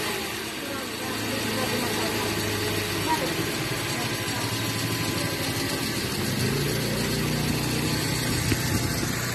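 A 2016 Toyota Avanza engine runs at a steady idle after a fan belt replacement, a continuous mid-pitched hum heard close up and fairly loud, with no talking over it.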